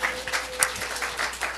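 A church congregation claps together in a short, even burst of applause, with a faint voice underneath.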